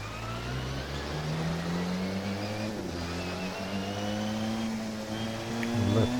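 An LMP prototype race car in the Assetto Corsa racing game pulls out of the pits, its engine droning and climbing in pitch through upshifts, with a brief dip at each gear change and steady mid-level loudness.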